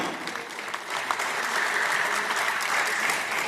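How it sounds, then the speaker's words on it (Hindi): Sustained applause from an audience at a business meeting, a dense wash of clapping that holds steady and fairly loud throughout. "जबरदस्त तालियां होना चाहिए, जोरदार तालियां"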